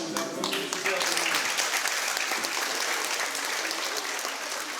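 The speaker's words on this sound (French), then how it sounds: "Bravo, vous applaudissez." An audience in a media library claps in sustained, dense applause that stays steady and loud throughout, after a brief moment where voices can be heard at the start.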